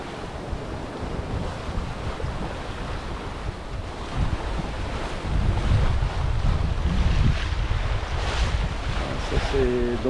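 Ocean waves about 2.5 metres high wash and surge around a sailboat at sea during a winter Atlantic crossing, with steady wind buffeting the microphone and swells building louder midway.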